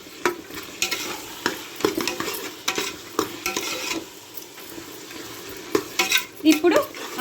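Vegetables for veg fried rice stir-fried in a pan: a spatula scrapes and clatters against the metal in uneven strokes over a steady sizzle, close and fairly loud.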